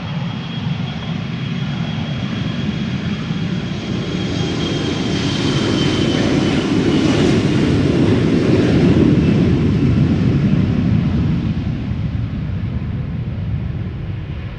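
An Airbus A350 jet takes off at Amsterdam Schiphol, its loud engine roar swelling steadily toward a peak mid-clip and then easing off slightly, a continuous rumble without voices.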